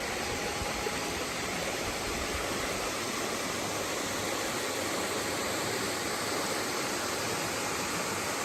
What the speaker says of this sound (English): take a look at the falls here. There you go, check that out behind me. That is Hilton Falls.